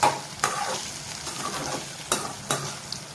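Muttai poriyal (Tamil egg fry) stirred in a pan over a quiet sizzle, with a few sharp scraping strokes of the spatula against the pan standing out from the soft frying.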